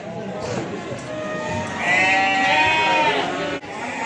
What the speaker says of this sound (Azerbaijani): bax belə balalı qoyunlar var qardaş